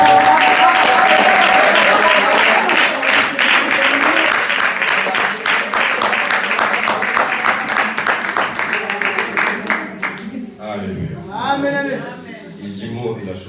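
A church congregation at a Sunday service claps loudly to acclaim the Lord. The applause is sustained and steady, then fades out as voices begin speaking at the end.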